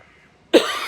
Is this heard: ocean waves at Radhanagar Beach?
no